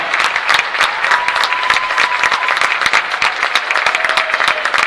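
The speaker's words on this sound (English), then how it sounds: "Let's have a round of applause for Casey now." A college volleyball crowd applauds an honoree during a conference semifinal, sustained lively clapping filling the gym, loud and continuous for about five seconds.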